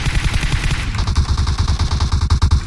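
Rapid bursts of gunfire from the battle royale game PUBG, a loud, dense string of close automatic shots with sharp repeated cracks throughout.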